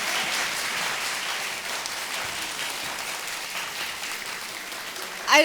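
A fireside chat audience gives a round of applause, with dense, steady clapping filling the room from start to finish and a brief voice near the end.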